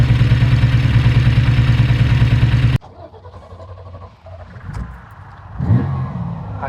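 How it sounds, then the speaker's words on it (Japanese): A Ferrari Dino 246GT engine idles and revs loudly, then cuts off sharply. Quieter rumbling, clatter and a rising rev follow as the car moves off, with no voices. "アクセルをちゃんと踏んで、はい、おー、進んでいます。 私は今ディノを運転しています。"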